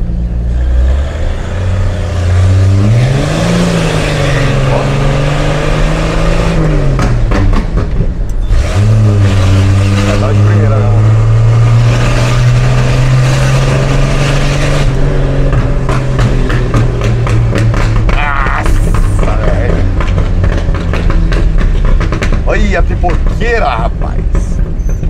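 A Chevrolet C10/C14 pickup engine revs loudly while driving in third gear, rising and falling in pitch through several pulls, with someone talking over the engine throughout.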